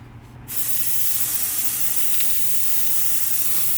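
Black Createx base coat paint being sprayed from an airbrush onto a sanded piece, a steady close hiss that starts abruptly after a brief quiet moment and continues evenly.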